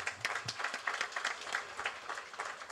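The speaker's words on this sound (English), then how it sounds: "Clap harder than the last set." An audience at a National Day of Prayer gathering claps in a faint, distant round of applause, with individual hand claps standing out against the crowd.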